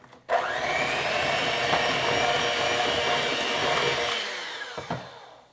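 Electric hand or stand mixer whirring steadily through vanilla cake batter, a continuous close motor drone lasting several seconds before cutting off, followed by a couple of light knocks, with no talking.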